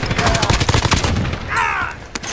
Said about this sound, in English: I'm being shot, I'm being shot.